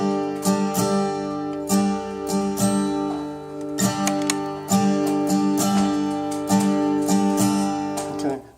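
An acoustic guitar strums chords in a basic down-bounce pattern, with a steady rhythm of accented downstrokes and lighter bounces, played close and alone with no talking.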